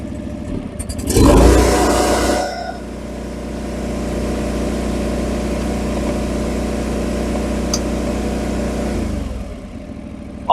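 A John Deere 445 garden tractor engine, set up with a snowblower, runs steadily at a constant mid-pitched drone, with a louder surge near the start as the PTO drive engages, then holds an even idle-to-working hum until it cuts down at the end.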